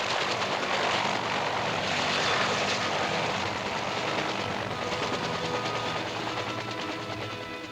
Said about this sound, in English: The Army's most advanced helicopters have been completely equipped to save lives